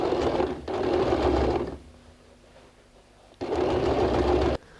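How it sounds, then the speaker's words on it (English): An electric sewing machine runs top stitching on a bag made from recycled denim jeans, with two loud steady motor bursts, a quiet pause between them, then a third run that stops abruptly. "I'll just press this and then sew a top stitch"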